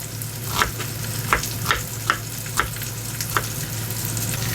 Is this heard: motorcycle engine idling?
no